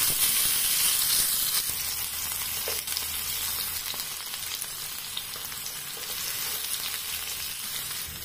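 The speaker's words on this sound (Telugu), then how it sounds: "చిల్లీ, టమాటాస్, జింజర్ గార్లిక్ ఇవన్నీ కొంచెం వేయించుకోవాలి" Chilli, tomatoes, ginger and garlic fry in a pan with a loud, continuous sizzling hiss that eases slightly after the first seconds and holds steady, with no one speaking.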